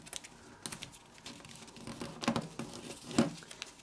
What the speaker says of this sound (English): And rotate and fold this flap over these edges.